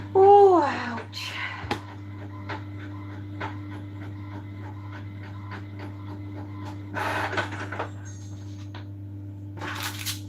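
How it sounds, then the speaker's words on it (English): A household printer runs with a steady low mechanical hum and a regular series of soft clicks and ticks, heard close up. A voice babbles briefly at the start, with small rustles and bumps around the machine. "That was the printer going off."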